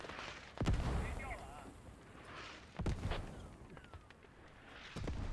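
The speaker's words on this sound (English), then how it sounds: "Crazy mortars being used by O.W.L.S." Mortar fire in the video game Squad: three heavy, booming blasts spaced a couple of seconds apart, fairly faint overall, with rumbling decay between them.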